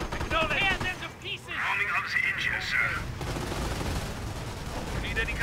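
Gunfire in the real-time strategy game Company of Heroes, bursts of rifle and machine-gun shots crackling at moderate distance amid battle noise, with a voice speaking over parts of it.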